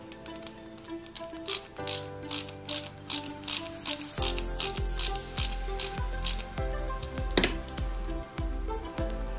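Small screws driven into a 1/8-scale Mercedes-Benz 300 SL model kit, fixing a pipe connector with two screws, give a close series of quick ratcheting clicks in short repeated bursts, with no talking.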